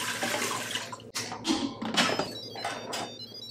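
Water is poured from a measuring cup into the inner pot of an Instant Pot IP-DUO Plus60 for a pressure test, a few splashing pours close by and fairly quiet.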